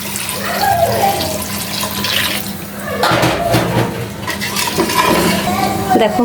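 Broth splashes into a pan of spiced fish curry over freshly fried masala, a loud, continuous liquid pour with gurgling and clinks of the pan, and a voice comes in at times.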